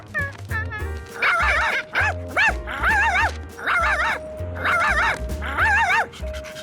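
A cartoon dog yips and barks in bright, bouncy bursts, loud and up close, with a few whimpering tones mixed in over a low musical backing.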